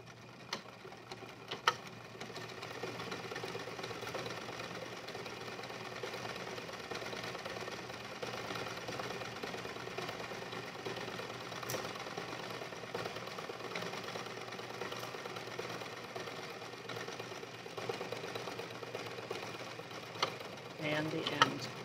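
Home sewing machine running steadily for about twenty seconds while stitching a 5/8-inch outside side seam, with a brief back stitch at the start; a continuous close mechanical whir with faint ticking, no talk.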